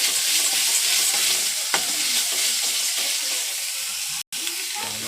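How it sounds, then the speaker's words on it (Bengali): Ginger-garlic, turmeric and chilli paste frying in a pan gives a close, steady sizzle with stirring scrapes, easing slightly toward the end, broken by a sharp brief dropout just after four seconds; no voices. "এরপর আমরা আদা রসুন বাটা, হলুদ বাটা এগুলো নিয়ে নেব, লঙ্কা বাটাটা এটাকে কষিয়ে নেব।"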